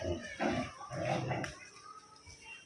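Dogs bark in short bursts close by near a herd of cows, the loud barks and growly yelps clustered in the first second and a half before fading to quieter background noise.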